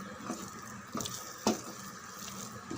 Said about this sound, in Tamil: நல்லா இதை ஒரு 3 நிமிஷம் வதக்கி விடுவோம்.